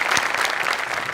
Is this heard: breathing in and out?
no